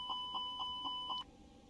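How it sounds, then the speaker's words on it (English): A cargo smoke fire alarm test in an X-Plane 12 airliner cockpit gives five evenly spaced, short electronic beeps at a steady pitch. The beeps are quiet and come alone, then stop abruptly. "Cargo smoke fire alarm check."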